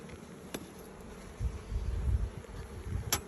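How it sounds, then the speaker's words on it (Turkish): Carniolan honey bees buzz around an open hive outdoors, a low, uneven droning that swells and fades close by, with a couple of brief clicks over the hum. "Bizim aramız karnıyol"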